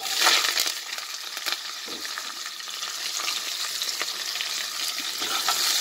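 Chopped large onions, small shallots, curry leaves and dried red chillies sauté in hot oil for a tomato-onion kulambu, giving a steady, loud, close sizzle with occasional stirring scrapes throughout.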